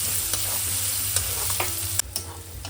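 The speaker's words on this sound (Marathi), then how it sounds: "आता कांदा टोमॅटो भाजलेला आहे" Chopped onion and tomato fry for a mutton curry, giving a dense steady sizzle with a few stirring scrapes and knocks near the end.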